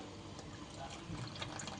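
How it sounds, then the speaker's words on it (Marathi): Tamarind water pours into a curry with a steady, soft liquid rush that stays faint and continuous. "आता हा चिंचेचं पाणी मी टाकते"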